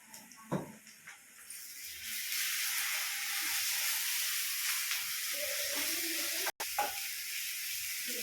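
Ginger paste frying in hot oil for a paneer curry, a loud, continuous close sizzle that starts after a couple of brief clatters and runs steadily to the end, briefly cut off near the finish.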